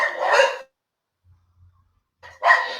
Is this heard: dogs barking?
yes